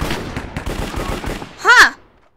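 Rapid gunfire rattles out in a quick burst of about a dozen sharp shots in a Minecraft cops-and-criminals match, followed by a louder warbling electronic effect that cuts off abruptly.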